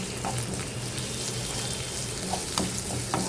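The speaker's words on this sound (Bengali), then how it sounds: "এই পেঁয়াজটা ভাজা ভাজা হোক" Onions frying in oil in a wok with a pinch of salt, a steady close sizzle with a few soft stirring scrapes and no voices.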